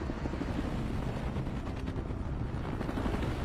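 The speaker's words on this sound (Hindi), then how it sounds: "अब इस सब के बाद वो सब हेलीकॉप्टर्स में बैठकर उड़ान भरते हैं" Helicopters fly over dense jungle and valleys in a sci-fi action film, a continuous low rotor thrum and engine drone, steady and fairly loud with no voices.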